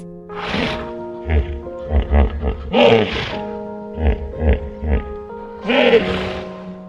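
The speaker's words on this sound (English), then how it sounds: "Hippopotamus." A hippopotamus calls in a run of deep, rhythmic grunting honks, pulsing in short repeated bursts with brief pauses, over steady background music.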